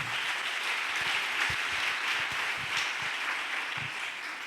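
A church congregation cheers and applauds the Lord during a French-language sermon, a steady wash of clapping and voices that holds loud and even throughout.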